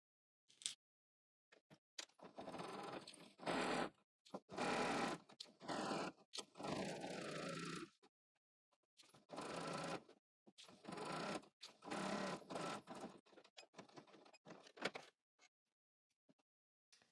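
A sewing machine stitches a pant hem in repeated bursts of fast mechanical whirring, each lasting a second or so, with brief quiet gaps between runs; moderately close and steady.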